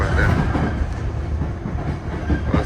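London Underground Piccadilly line train pulling out of Cockfosters station toward Oakwood, a loud continuous rumble of wheels and carriage noise heard from on board, steady throughout with no talk.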